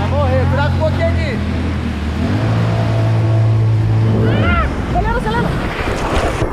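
A jet ski engine revs and accelerates on open water, its droning tone rising and holding loud and close over wind and splashing, with excited voices talking over it throughout.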